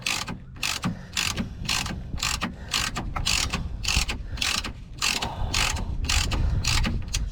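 A ratchet wrench tightens the track rod end nut into its taper on a Vauxhall Omega Elite, giving a steady run of close, sharp clicking strokes in quick bursts across the whole stretch with no talk.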